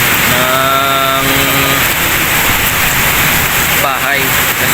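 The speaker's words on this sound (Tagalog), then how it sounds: "grabe talaga ang lakas ng ulan dito" Heavy rain pours down steadily outside a house, a dense, loud, unbroken hiss that fills the whole stretch, with a voice briefly rising over it.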